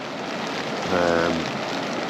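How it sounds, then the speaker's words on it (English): Steady rain falls outdoors at a wild camp, a constant even hiss that goes on through the whole stretch with a brief, slightly fuller swell near the middle. "So as you can hear, the rain started again"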